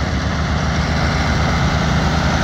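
An old Case 2290 tractor engine runs at a steady idle nearby, a loud continuous low rumble with no other sounds over it.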